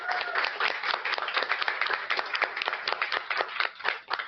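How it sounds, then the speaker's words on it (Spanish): A small audience clapping for Ashanti at a youth forum event, brisk, evenly paced handclaps close by that keep going steadily and then taper off briefly near the end. "Entonces, un aplauso también para Ashanti,"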